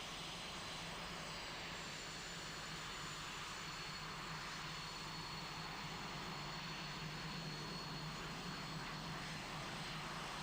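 Several Swiss Air Force display team jets take off together at an air show in formations of three, a steady broad engine roar that holds loud and unbroken from start to finish.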